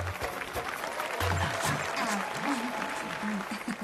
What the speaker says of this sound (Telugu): కొట్టండి రా చప్పట్లు.